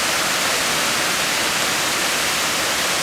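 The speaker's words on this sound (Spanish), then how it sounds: "nos encontramos en la primera cascada de este paradisíaco lugar llamada Cascadas de Aconco en Puebla" Waterfall at Cascadas de Aconco in Puebla, a steady dense roar of falling water filling the whole recording, loud and unbroken, with no voices.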